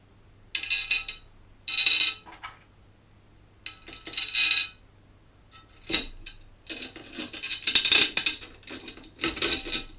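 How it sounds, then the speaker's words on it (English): Metal screws clinking and rattling while being handled and slotted in during assembly of a Creality Ender 3 V2 3D printer, several bright separate bursts of jingling and tapping, close by, with no talking. "Just slot in the screws again."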